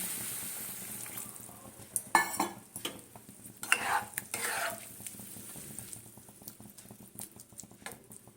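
Mixed vegetables stirred in butter for a vegetable soup, with water just poured in: bursts of hissing sizzle in the middle, soft patter and a few light metal clinks around it, fairly close, with no talking.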